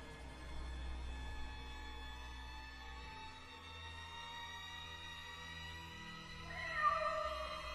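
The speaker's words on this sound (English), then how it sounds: "I hear music and I hear like meowing outside right over there" Cat meowing outside in the Poppy Playtime video game, faint and distant over a low droning background with music, with a brighter cry rising near the end.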